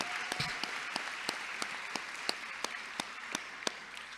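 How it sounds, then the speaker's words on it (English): Audience applause at a summer high school graduation ceremony in Springfield, heard faint and distant. Soft, broad clapping from a crowd runs throughout, with a few sharp individual claps standing out at a fairly regular pace. "Let's give them a big round of applause for their dedication."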